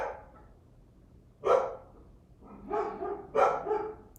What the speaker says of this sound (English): I gotta go calm the dogs down